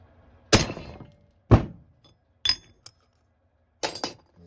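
A hammer strikes a bearing into a Dana 44 spindle, landing about five separate sharp metallic whacks with ringing clinks, spaced irregularly and close by, with no talking.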